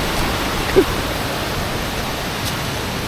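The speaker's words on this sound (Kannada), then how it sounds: "ಇಲ್ಲಿ ಸ್ವಲ್ಪ ನೀರು ಬೀಳ್ತಾ ಉಂಟು" A small trickle of water drops along a trail toward a waterfall in Uttara Kannada, heard as a steady, even rushing hiss with one faint bump and no talk.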